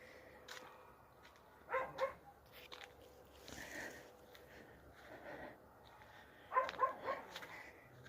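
A dog barks faintly in a rural village yard, with two brief clusters of yaps separated by quiet outdoor background.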